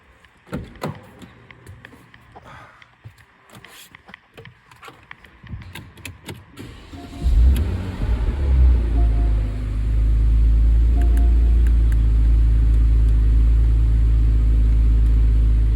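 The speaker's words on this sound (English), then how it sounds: "So I'm just gonna go in and start the car." A 2015 Porsche Cayenne S is started after a few clicks and door or key sounds, its engine catching with a loud low rumble and then settling into a steady, close idle.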